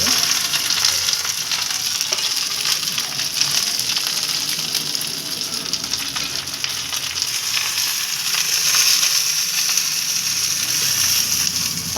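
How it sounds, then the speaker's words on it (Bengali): Marinated maya fish frying in a wok, making a loud, continuous, close-up hiss and sizzle that stays steady throughout with no talking. "এবার ম্যারিনেট করা মাছটা ঢেলে দিলাম কড়াইয়ে।"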